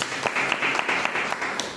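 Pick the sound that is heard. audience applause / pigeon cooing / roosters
audience applause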